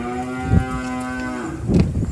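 A cow on a farm lets out a long, clear moo, close and loud, with a short huff of breath before and after; no talking.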